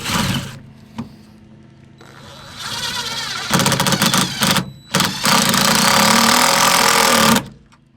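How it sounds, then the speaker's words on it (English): A neighbor's lawn mower engine drones steadily nearby, swelling louder and rougher partway through with brief dips, alongside a few close knocks and clanks of handwork on a truck camper. "My neighbor decided it was awesome time to mow her lawn."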